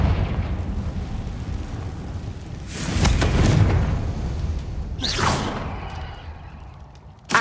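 The Confringo fire spell in Hogwarts Legacy bursts with a booming whoosh over a rumbling low background, followed by a second sharper swishing blast a couple of seconds later.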